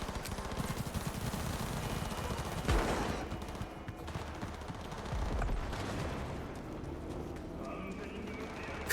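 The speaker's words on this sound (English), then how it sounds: "That's a lot of gunfire." Gunfire in the video game Cyberpunk, a mix of rapid shots and bursts heard somewhat far off within a busy game soundscape, with a voice talking over it.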